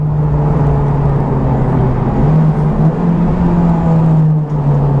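A car rolls gently around a track lap to let freshly bedded-in PBS brakes cool, with a loud, steady low engine drone and tyre whir and no talking.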